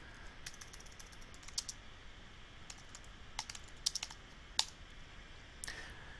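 Quiet typing on a computer keyboard enters kOS commands for Kerbal Space Program, with scattered key taps and a few quick bursts of clicks over a soft background hiss.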